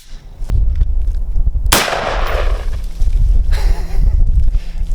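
An AR-15 rifle fires at homemade bulletproof plates outdoors, with one loud, sharp report and a decaying tail, a fainter crack before it and another burst later, all over a constant low rumble.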